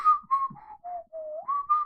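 One person whistles a short wavering tune, close and clear, in several quick gliding notes with small gaps between them.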